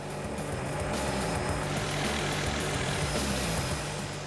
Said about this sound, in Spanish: Ahora el helicóptero ha quedado adherido a la línea y Dwayne